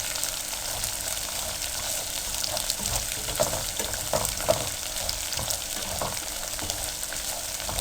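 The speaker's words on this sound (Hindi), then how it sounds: "चम्मच मुसलसल चलाते रहें, क्योंकि लहसुन के जलने का भी होता है।" Garlic for curry frying in oil while a spoon stirs it continuously, a dense steady sizzle with scraping and clinking of the spoon against the pan, close and alone.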